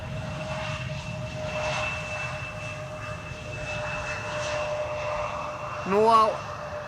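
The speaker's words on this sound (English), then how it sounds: "An Embraer 175 KLM Flight 1176 having arrived from Stavanger" A KLM Embraer 175 passenger jet lands at Amsterdam Schiphol after a flight from Stavanger. Its engines give a steady, fairly distant roar, and a brief rising whine swells near the end.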